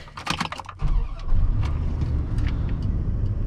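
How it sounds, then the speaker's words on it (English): A 1994 Dodge Ram 1500 SLT Laramie two-wheel-drive pickup gives a few light clicks and rattles, then its engine settles into a low, steady rumble that swells slightly and holds while driving. "Today we are driving a 1994 Dodge Ram 1500 SLT Laramie"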